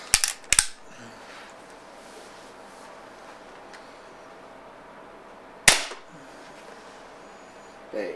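A Beeman P1 .22 caliber air pistol fires in sharp, close cracks: a quick double crack at the start and another single shot partway through, separated by quiet room tone.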